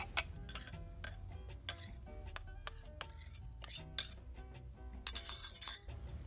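A tall drinking glass is handled, giving a series of light clinks and taps at irregular intervals, fairly close, over a steady low background hum.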